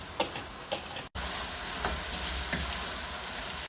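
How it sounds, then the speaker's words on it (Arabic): Sweet peppers sauté in a hot pan, a steady loud sizzling hiss with a few soft stirring clinks near the start. "نحط الفلفل الحلو ونشوح لمده دقيقتين"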